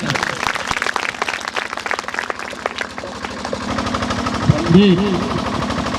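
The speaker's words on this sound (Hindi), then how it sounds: "जोरदार तालियां" Dense, rapid clapping from an audience fills the clip, steady and fairly loud, with a brief tonal sound near the end.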